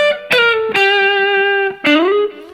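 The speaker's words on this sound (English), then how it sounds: "Now, I also have a pedal boost here. I'm putting a little more distortion." An electric guitar with a distortion pedal boost plays a short lead phrase of three sustained, bending notes, each struck sharply and ringing with a thick, buzzing tone, played alone.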